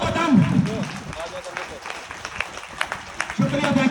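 Seminar audience in a hall claps, a loud burst at the start that fades, then a second swell of applause near the end, with crowd noise between.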